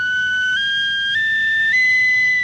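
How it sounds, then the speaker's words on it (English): Loud, shrill tin whistle playing an Irish tune only in its second octave, sustained piercing notes stepping upward in a few clear jumps, alone and close. "It's very loud on the whistle. It's very shrill, yeah."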